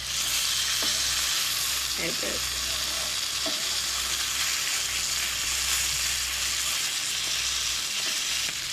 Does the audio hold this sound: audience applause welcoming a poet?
no